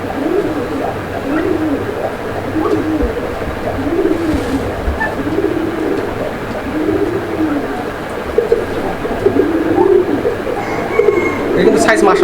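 Large pigeons held in a seller's collection give low, repeated cooing in rolling phrases over steady background noise, with a passing train-like rumble and some voices nearby.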